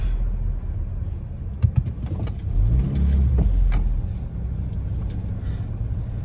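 A car accelerating hard while its red brake light flickers: a steady low engine rumble rises into a louder, fuller surge in the middle, with a couple of brief knocks before it, then settles back to a steady drone.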